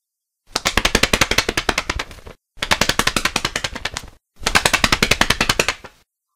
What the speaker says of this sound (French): il entendit des battements d'ailes au-dessus de sa